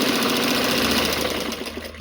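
Sewing machine stitching a kurti's lining to its main fabric, a fast steady mechanical chatter with rhythmic needle knocking, close and continuous.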